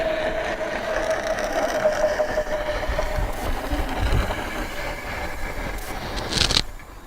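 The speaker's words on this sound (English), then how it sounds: "We're going to retract the winch using a quick release." An electric winch on a Ural motorcycle retracts with a steady mechanical whine and motor hum, continuous and moderately close, ending in a brief higher squeal.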